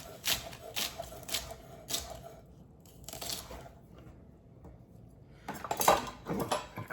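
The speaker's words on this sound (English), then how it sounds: "Just gonna rough chop these." A knife rough-chops vegetables, likely peppers, on a board while a grilled jerk chicken meal is prepared, giving quick clusters of close, crisp thunks with short quiet gaps and a busier burst near the end.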